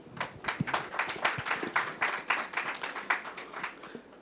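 A short burst of audience applause, many hands clapping steadily and fairly loud, with no talking over it.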